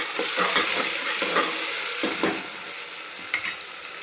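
Ginger garlic paste sizzles in a hot pan while a spoon stirs it with repeated scraping strokes, a steady bright frying hiss running underneath the close, rhythmic stirring.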